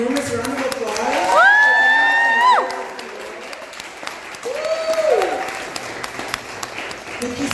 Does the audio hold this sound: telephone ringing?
no